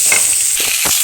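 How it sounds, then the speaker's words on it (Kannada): Onions frying in a pan until they just begin to change colour, a steady bright sizzle with a few soft stirring scrapes, close and fairly loud, no talking. "ಸ್ವಲ್ಪ ಕಲರ್ ಚೇಂಜ್ ಆಗುವವರೆಗೆ ಹುರಿಯಿರಿ"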